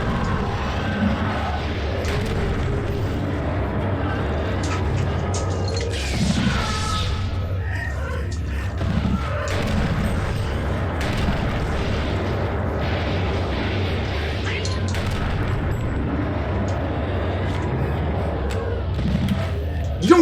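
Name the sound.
grenade explosions in the video game Eternal Darkness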